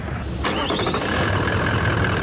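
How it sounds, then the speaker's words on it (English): An engine cranks and catches during a battery cranking test on a 200 series factory setup, starting about half a second in and settling into a steady, loud running note. "Now we're coming to our cranking test. Now you got to sort of start the engine before this bar goes down."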